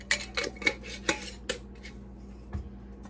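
Dry seasonings mixed with a utensil in a bowl, giving about eight quick clinks and scrapes in an uneven rhythm, close and quiet, ending in near silence.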